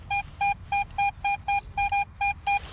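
A metal detector beeps in a steady rhythm while coin hunting in a park, about ten identical short electronic tones at the same pitch, clear and close.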